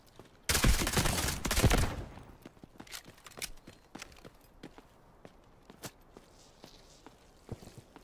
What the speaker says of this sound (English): There's already shots inside admin, bro.